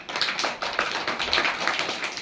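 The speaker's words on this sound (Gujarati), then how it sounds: "તાળીઓ પાડ દો." A group of children clap their hands in a classroom, a brisk uneven patter of many claps running through the whole moment, close and fairly loud, no voices over it.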